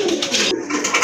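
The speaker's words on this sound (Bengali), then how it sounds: "মাশাআল্লাহ আরেক জোড়া কবুতর খুবই চমৎকার দেখার মতো এক জোড়া কবুতর" Pigeons coo in a steady, close, loud rolling murmur, several birds overlapping for a brief moment with no voices.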